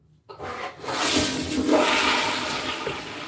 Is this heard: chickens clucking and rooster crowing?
no